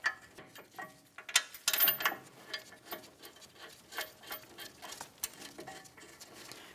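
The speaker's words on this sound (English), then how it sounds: "Now we can tighten each of these and then torque them to 111 foot-pounds." A hand ratchet clicks rapidly and repeatedly while tightening the brake caliper bracket mounting bolts on a 2009-2019 Ford Flex, close up, with uneven bursts of pawl ticks and a few metallic knocks.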